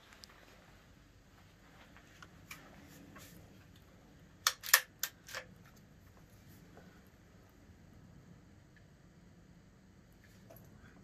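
Several sharp, quick shots from a Sentry PCP air rifle, fired close by in a tight cluster of about four cracks, with near silence around them.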